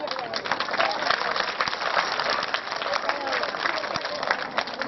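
An audience at a school annual function claps together, a dense sustained ripple of applause that runs throughout, mixed with crowd murmur and some talk.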